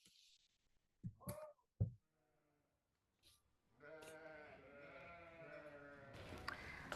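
Sheep bleat in short calls from a herd out walking, some close and clear, with quiet gaps, then a longer wavering bleat over soft background noise.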